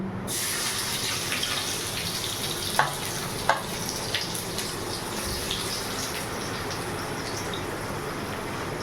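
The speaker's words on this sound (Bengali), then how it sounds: "তেলটা গরম হয়ে গেছে, তো একটু পেঁয়াজ দিয়ে দিই আমি।" Onion dropped into hot oil in a pan sizzles and fries loudly and steadily close by, with a couple of faint clinks early on and no talking.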